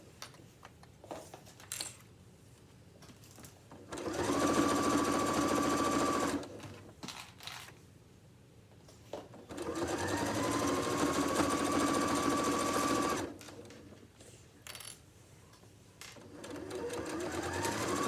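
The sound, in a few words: sewing machine stitching around the edge of an apron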